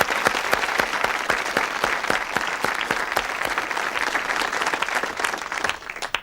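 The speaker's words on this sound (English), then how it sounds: "Let's have some applause for the suspects." A studio audience at a television murder-mystery panel game applauds steadily, a dense, loud wash of clapping that holds level throughout and thins slightly at the end.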